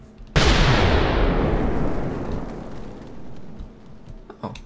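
A TNT cannon fires in Minecraft, one sudden loud boom that rolls into a long rumbling decay lasting several seconds.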